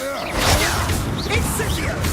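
Fire spell cast in combat in the video game Hogwarts Legacy: a swishing whoosh with crackling, crashing impacts layered over dense battle noise, loud and close throughout.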